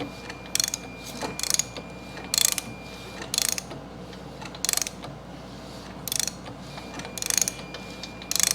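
A car engine on a rat rod build is turned over by hand with a ratchet, giving short bursts of crisp clicking spaced about a second apart, loud and close against a quiet background.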